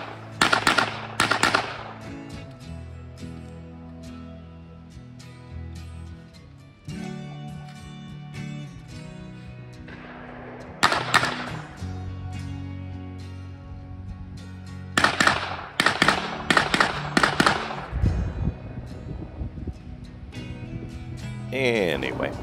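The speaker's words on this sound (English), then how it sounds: "a registered short barrel rifle, an MP5 in 22 rimfire" Rapid bursts of .22 rimfire fire from a registered short-barrel MP5 crackle in several clusters, sharp and loud, with pauses between strings and low rumble underneath.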